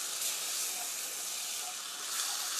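A cup of water poured into roasted flour in a pan while making a cream sauce for tofu hisses with a steady, bright steam rush that swells slightly near the end; no one speaks.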